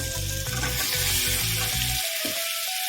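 Spice paste fries loudly in a pan for a Bengali mixed-vegetable dish, a steady close sizzle with a few stirring scrapes, easing toward the end.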